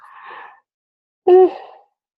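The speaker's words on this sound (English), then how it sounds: "Sorry, I had a yawn." A human yawn: a soft breathy intake followed by a louder, voiced drawn-out exhale, close and isolated.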